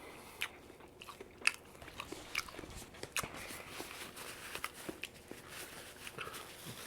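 Crunchy bites into crispy double-breaded bang bang shrimp, a series of sharp, close crackling crunches spread irregularly through a quiet background with no talking.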